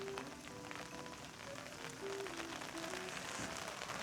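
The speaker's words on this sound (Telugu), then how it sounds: "ఇప్పుడే వర్షం పడటం స్టార్ట్ అయింది." Rain falling at Sora Terrace, a mountaintop viewpoint in Japan. A faint, steady hiss of rainfall and drops pattering on surfaces continues without a break, with a low background murmur.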